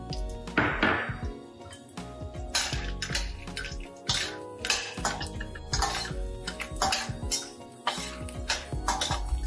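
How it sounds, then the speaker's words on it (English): Edible gum frying in hot ghee in a pan, with crackling bursts and puffing sizzles interspersed with clinks of a spoon against the pan, close and uneven in rhythm. "So you can see how our edible gum is getting fried."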